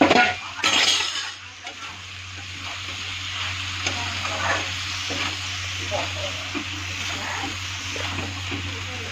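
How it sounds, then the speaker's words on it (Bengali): Steady sizzling of soybeans frying in a hot pan with spinach, continuous and close, with a few brief scraping clinks near the start. "এখন আমি ওর মধ্যে সয়াবিনটা ভেজে দিলাম।"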